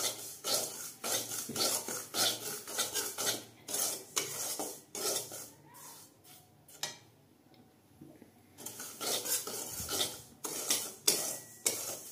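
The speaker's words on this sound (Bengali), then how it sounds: "এবার সুজিটাকে আমি একটু হালকা করে ভেজে নেব" Semolina is lightly dry-roasted over low heat in a pan, a spoon scraping and rasping through it in quick rhythmic strokes, with a short pause midway before the stirring resumes close and loud.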